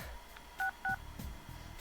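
Two short electronic keypad beeps from a phone in a video game as the player scrolls through contacts, clear and evenly spaced over a faint background hum.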